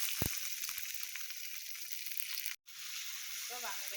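Onion frying in hot oil with cloves and fennel seeds, a steady bright sizzle running throughout, broken by a brief silent gap near the middle and a few small clatters toward the end.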